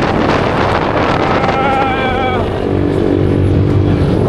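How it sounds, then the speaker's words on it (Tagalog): Strong wind roars and buffets the microphone continuously, with a faint engine hum and a brief tonal whine in the middle. "Lakas ng hangin oh."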